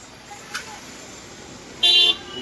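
A single short car horn toot sounds near the end over a low, steady rumble of jammed traffic near the Shani Shingnapur temple, with faint voices of a large crowd in the background.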